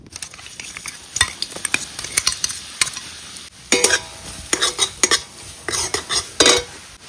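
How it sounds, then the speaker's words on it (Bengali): Grated coconut stirred and fried in oil in a hot wok for a Bengali village lunch, a steady sizzle beneath repeated scraping clinks of a metal spatula against the pan, close and continuous with no talk. "ওরকম আস্তে আস্তে নাড়াইয়া ভাজতে নিতে হবে"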